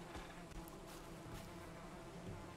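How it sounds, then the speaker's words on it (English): Faint, steady buzzing of bees in the video game Valheim under a low hum, continuous and distant. "I can hear bees."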